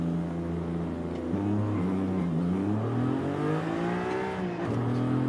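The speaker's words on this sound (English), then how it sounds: "We'll actually launch this thing using the launch control." A car launches using launch control in Forza Horizon 5: a loud, steady engine drone climbs in pitch as it revs up, dips briefly near the end at a shift, then pulls again, with no talking.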